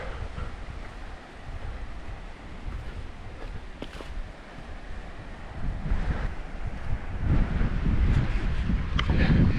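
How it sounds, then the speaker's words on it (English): Waves washing onto the sand at Chilli Beach on Cape York, a continuous broad rush that builds toward the end, mixed with wind buffeting the microphone and no talk. "here we are, camped at Chilli Beach this morning, and it's a beautiful beach"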